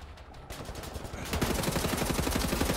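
Weapon fire in the video game Wolfenstein: The New Order, quick repeating shots that build into a loud, continuous rattling burst over game ambience.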